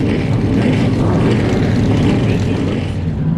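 Loud, steady roar of vintage race car engines at River Glade Speedway, droning continuously, close and unbroken with no pauses throughout.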